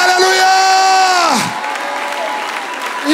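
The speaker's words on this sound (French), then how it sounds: "applaudissez pour lui" A church congregation claps and cheers for a man at an evangelistic assembly, opening with a loud sustained shout that drops away, then scattered applause and crowd noise at a lower level.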